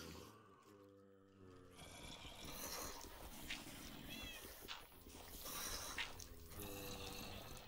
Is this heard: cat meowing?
yes